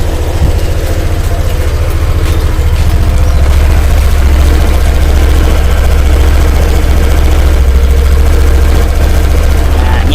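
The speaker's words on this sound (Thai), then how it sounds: "มาฟังเสียงข้างกันบ้างครับ" A 2017 Honda PCX scooter idles with its stock engine, giving a loud, steady, close low drone that runs unbroken for the whole stretch, with faint talk beneath it.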